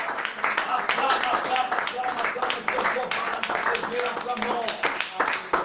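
A prayer service congregation claps and acclaims loudly, with dense, steady rhythmic clapping mixed with raised voices and shouts filling the room throughout.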